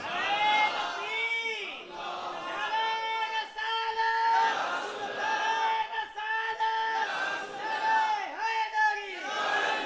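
A large gathering at a religious gathering chants a slogan in unison, loud rhythmic call-and-response bursts of many voices repeating every couple of seconds, echoing in a reverberant space.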